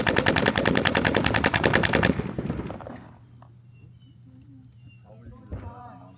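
Paintball markers fire a rapid, dense burst of shots at close range during team practice for an NXL tournament, then stop abruptly. A quieter stretch of field ambience follows, with faint voices.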